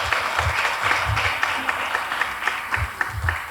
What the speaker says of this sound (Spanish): les pido un aplauso primeramente para él